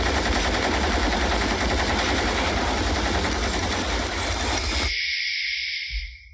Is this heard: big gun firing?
yes